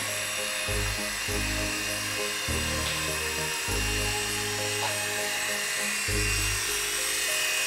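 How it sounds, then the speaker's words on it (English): A small remote-control helicopter's rotor buzzes steadily nearby, flying past a 1931 Ford Model A car, its motor pitch rising and falling in repeated surges throughout. "somebody just flew a helicopter right through his Model A"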